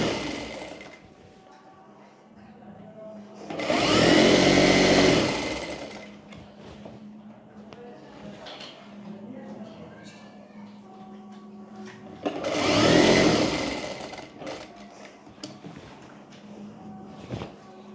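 Sewing machine stitching a kurti scarf, two loud sustained whirring runs of stitching a few seconds each, separated by quieter handling noise and a low background hum.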